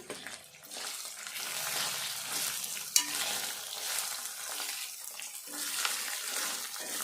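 Okra pieces sizzle and fry in a pan with chili powder while being stirred, a steady crackling hiss with scraping stirs and one sharp clink partway through, close and continuous with no talk, for a Telugu okra pulusu curry.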